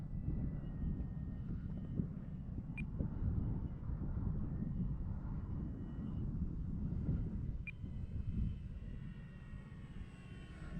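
An E-flite Carbon Z T-28 Trojan RC model plane comes in to land with flaps down, its engine a steady low drone heard from a distance, with wind rumbling across the microphone throughout.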